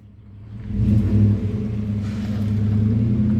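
A 2016 Chevrolet Malibu with a no-crank, no-start fault, giving a low engine rumble that builds and holds steady, heard alone and fairly loud.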